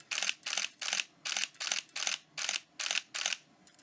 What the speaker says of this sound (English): this big shutter in here does sound amazing in this large body